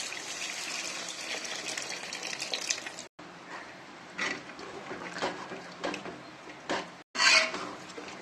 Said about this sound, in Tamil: இப்போ நம்ம புளி கரைசல் ஊற்றிக்கலாம்